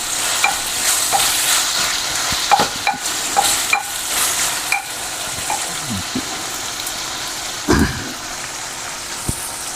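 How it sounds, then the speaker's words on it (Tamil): Onions sizzle steadily in hot oil as they are stirred until brown for a black chicken gravy, with sharp clinks and scrapes of the spoon against the pan breaking through the constant frying hiss. "வெங்காயத்தை போட்டு நல்லா நம்ம ப்ரௌன் கலரில் வர வரைக்கும் நம்ம வதக்கணும்"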